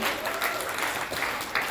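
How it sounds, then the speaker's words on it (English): A studio audience at a prom-themed show breaks into steady clapping for the participants, a short, dense burst of applause at moderate level. "Big round of applause for our stars,"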